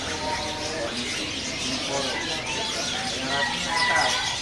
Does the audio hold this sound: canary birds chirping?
yes